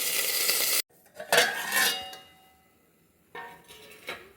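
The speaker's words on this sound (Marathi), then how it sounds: "त्यावर आता झाकण ठेवायचं" A metal lid is set onto a kadhai of stuffed bitter gourd, giving a couple of close, sharp clanks and scrapes with quiet pauses between them and no talking.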